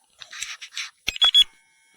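Two short, high beeps sound close by from FPV goggles as their cooling fan switches, following a brief quieter buzzing patch, with no talking.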